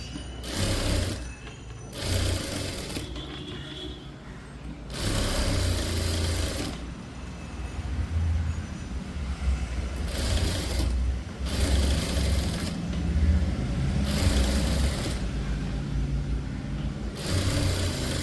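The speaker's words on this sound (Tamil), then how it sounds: "இப்போ நம்ம ஸ்டிச் பண்ணிடலாம்." A sewing machine stitches a blouse in repeated bursts, its motor whirring steadily for a few seconds at a time with short pauses between runs, close and fairly loud with no voices.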